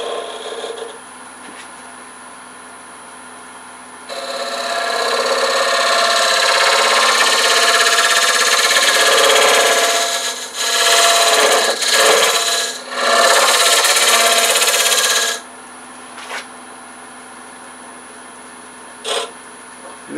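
A wood lathe spins a small hollow form while a round-bit cleanup tool scrapes the bottom, giving a loud, steady rasping hiss from about four to fifteen seconds, briefly broken twice, over a quieter motor hum.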